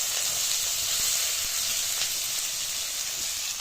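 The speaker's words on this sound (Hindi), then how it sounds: "अब इस गरम तेल में जाएगा भाई प्याज अदरक और लहसुन" Onion, ginger and garlic hitting hot oil in a pan after fish was half-fried in it, giving a loud, steady hiss of sizzling that carries on without a break, close up and with no voices.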